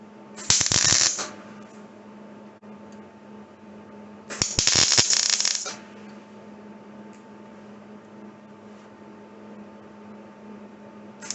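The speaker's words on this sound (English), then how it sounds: "I need to do a few tack welds to hold it in place" Two short, crackling bursts of tack welding on a 1967 Camaro's outer cowl panel, each about a second long and a few seconds apart, over a steady electrical hum in a quiet shop.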